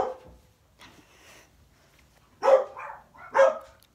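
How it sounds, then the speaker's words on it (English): Dogs bark in a few sharp, separate yaps, two louder barks near the end after fainter whimpering sounds, moderately close in a quiet room with no talking. "Dogs!"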